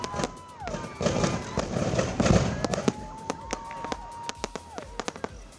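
Fireworks at a school Christmas celebration in Mindanao crackle and pop in bursts, with whistling rockets rising and sharp scattered bangs echoing, some near and loud, others fainter.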